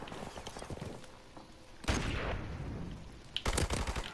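Gunfire in the first-person shooter Modern Warfare Remastered, with two loud bursts of rapid shots separated by quieter game ambience and distant pops.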